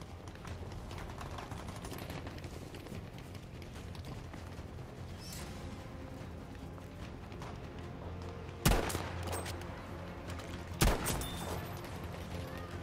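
Two sharp gunshots about two seconds apart in a shooter video game, heard over a constant, busy mechanical background hum.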